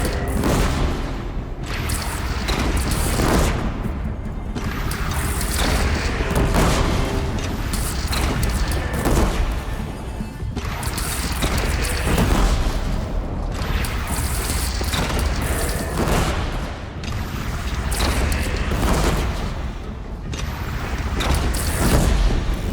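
Repeated cannon blasts in Horizon Zero Dawn Remastered during a bandit clan assault, booming shots roughly every few seconds over a dense, noisy battle din.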